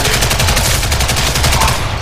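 Gunfire in the online shooter Ghost in the Shell: Stand Alone Complex - First Assault Online, a demolition match, with rapid loud automatic bursts repeating in a dense, continuous volley close to the listener.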